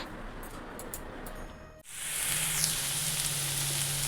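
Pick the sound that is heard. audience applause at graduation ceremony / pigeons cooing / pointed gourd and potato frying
pointed gourd and potato frying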